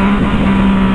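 A Yamaha MT-09 motorcycle engine roars loudly and steadily up close, a continuous deep, rough drone with no pauses.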